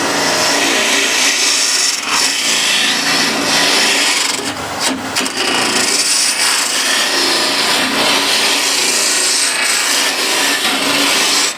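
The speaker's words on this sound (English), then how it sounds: "Now the way I'm going to hollow this out is by back hollowing" Back hollowing a wooden piece held in a lathe chuck, a continuous loud gritty scraping hiss of the tool cutting the spinning wood, with a short break and a small skid midway.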